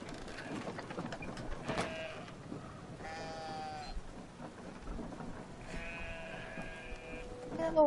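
In-game sheep from Brothers: A Tale of Two Sons let out three or four drawn-out bleats, spaced a second or two apart, over a steady backdrop of rain and low rumbling.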